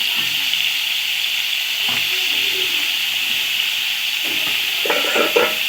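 Potatoes fry in a covered pan with a constant loud hiss of steam and sizzle, and a few faint clinks of utensils appear toward the end.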